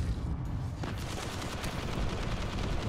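Gunfire in the video game Destiny, in a moon setting: dense, rapid bursts of shots and booming impacts that continue without pause, fairly loud and close.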